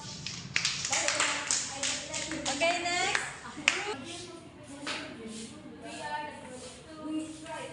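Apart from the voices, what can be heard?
class clapping five claps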